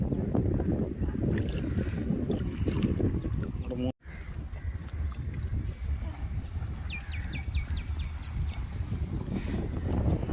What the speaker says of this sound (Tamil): காற்று சத்தமாக இருக்குது.